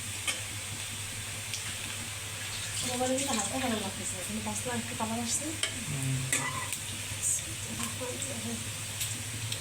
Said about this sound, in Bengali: পেঁয়াজ রসুন কাঁচামরিচ ভাজা হয়ে গেছে এখন শাকটা দিয়ে দিবে